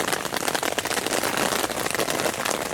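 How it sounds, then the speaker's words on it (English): Rain falling steadily outdoors in the Balcones Canyonlands, a dense, continuous hiss of drops on surfaces, fairly close and unbroken, with no voices. "Oh, how we love the rain."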